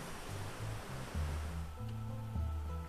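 Water rushes from a hydro power outflow in a steady, loud roar, with a low hum running underneath the churning flow.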